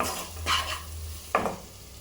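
Tomatoes with salt sizzle softly in a pan as a spoon stirs them, with two distinct scraping strokes over a low, steady hum.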